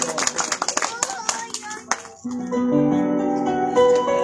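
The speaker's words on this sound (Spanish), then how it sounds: "palmas, a ver, para nuestro Dios Todopoderoso" A church congregation claps along during a service, scattered hand claps mixed with voices for about two seconds before sustained, tonal music-like sound takes over.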